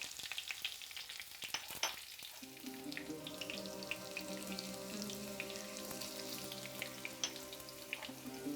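Mustard seeds, green chilies and a clove of garlic go into hot oil in a pan, a faint sharp crackle and spatter swelling into a steady sizzle after a couple of seconds.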